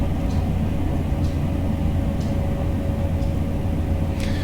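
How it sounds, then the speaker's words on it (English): ICE3 high-speed train wagons rolling on track in Train Sim World, a loud steady rumbling roar with faint periodic clicks from rail joints, no talking. "only the noise that the wagons make when they run on the track"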